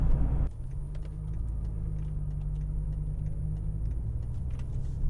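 BMW E64 M6 engine running as a constant low, steady rumble after a brief louder burst at the start, with faint ticking on top and no voices.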